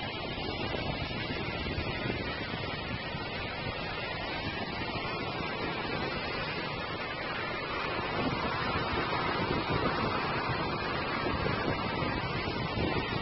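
Ocean surf at Imperial Beach washes in a steady, broad roar of breaking waves, with wind noise on the microphone and no talk.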